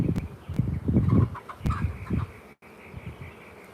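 Honeybees with Russian genetics buzzing during a hive inspection, a close, irregular droning hum with loud swells and brief pauses, heard alone.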